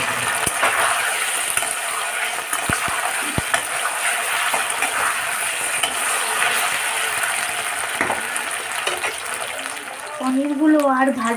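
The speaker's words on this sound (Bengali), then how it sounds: "এই গরম তেলের মধ্যেই আমি যেই তেলে কাজু ভেজেছি সেই তেলের মধ্যেই আমি এই পনিরগুলো ভেজে নেব" Paneer cubes frying lightly in hot oil that was first used for cashews, giving a steady, even sizzle with a few sharp ticks throughout and a brief voice near the end.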